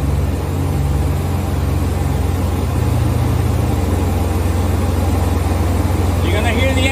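A Sullair 185 T4 portable air compressor's engine idles up after startup, a loud, steady, close diesel drone with a constant low hum throughout and a faint hiss near the end.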